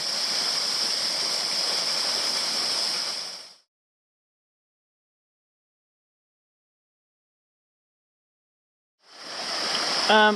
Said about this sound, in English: the creek is a whole lot more lackluster up here